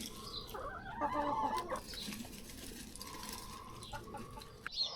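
Several chickens cluck and call softly in the background near a polytunnel vegetable patch, with a faint crow-like note, fairly distant, and no one talking.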